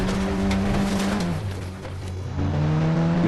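A Rolls-Royce in a video game drives into a garage with a steady, loud engine drone. The pitch dips briefly, then rises again as the car moves, and the motor sound stays alone and close throughout.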